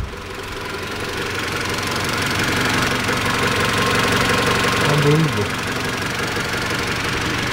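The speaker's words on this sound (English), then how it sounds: "Look how it's idling." An old Honda Civic EK engine idles steadily and close by, a continuous low mechanical hum with a slight knocking texture, while someone speaks briefly over it.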